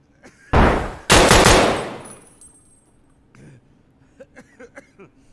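Two loud, close bursts of automatic gunfire in Escape From Tarkov, each a sustained rattling volley of about half a second, followed by near silence with a few faint clicks and small handling noises.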